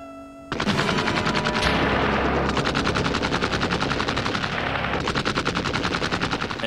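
An MG-42 machine gun fires long, loud, rapid bursts of closely spaced shots that roll on continuously after a brief quiet start, with no voices.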